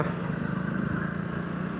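A motorcycle on a solo trip along a straight stretch of the Delhi Road highway holds a steady, faint engine drone mixed with road and wind noise, with no talking.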